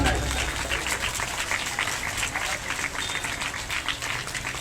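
An audience at a Bhagavat Katha religious discourse applauds in a steady, sustained wash of clapping from a large crowd, with faint voices mixed underneath.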